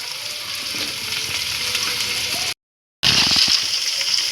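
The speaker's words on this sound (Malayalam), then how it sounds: "ഇതിൽ നമ്മൾ സവാള ചേർത്ത് കൊടുക്കാം. എപ്പോഴും സവാള ചേർത്തെടുക്കുമ്പോൾ ശകലം ഉപ്പിട്ട് കൊടുക്കുക. നന്നായി ഒന്ന് വേഗം വഴണ്ടി കിട്ടും." Onions sautéing with a pinch of salt in a pan for spicy chicken gravy give a steady, close sizzle and crackle with stirring. The sound cuts out briefly partway through, then resumes just as loud.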